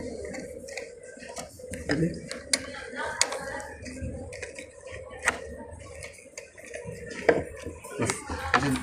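A wrench loosening and tightening electrical line connections during bypass wiring in a multi-storey building, giving irregular metallic clicks, ratcheting taps and clanks up close amid background noise.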